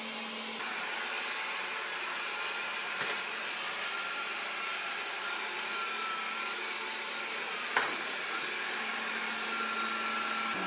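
A Proscenic 820S robot vacuum cleaner runs indoors with a steady, fairly quiet whirring hum, a few faint clicks and a brief bump breaking the constant motor drone; no one talks.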